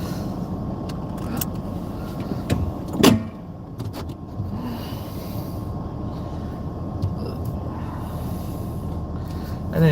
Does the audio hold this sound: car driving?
yes